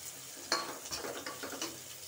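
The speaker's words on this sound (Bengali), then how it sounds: "টমেটোটা 5 মিনিট কষানো হোক" Tomatoes sautéing in a curry with new potatoes, stirred in a pan, give a low steady sizzle broken by a few soft scraping strokes of a spoon, close and fairly quiet with no talk.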